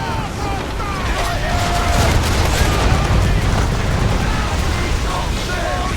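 Broadside cannons firing from a sailing ship in Assassin's Creed III, a dense, loud rumbling barrage of booms rolling on continuously, with shouted voices mixed in.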